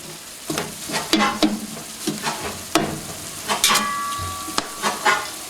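A fish curry simmers in a pot, giving a soft bubbling sizzle broken by repeated clinks and scrapes of a utensil stirring against the metal, close by with no talking.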